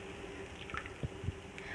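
Grated bottle gourd dropped into a pot of boiling water in a home kitchen, giving a few soft wet plops and drips over a low bubbling background, close and quiet.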